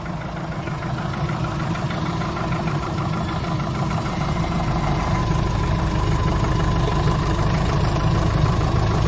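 A VW Golf engine idles steadily after starting on a frosty day. The close, even mechanical hum and throb carries a faint ticking texture and holds constant throughout, with no speech over it.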